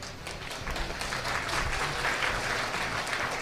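Audience applause at a Tamil talk, a broad rush of many people clapping that swells slightly and holds steady for several seconds, with no speech over it.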